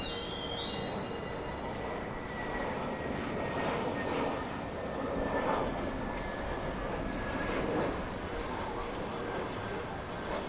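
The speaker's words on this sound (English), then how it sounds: "Yeti Airlines international flight takeoff from TIA" A Yeti Airlines international flight takes off from TIA in Nepal, its jet engines roaring loud and steady before easing off, with faint voices in the background.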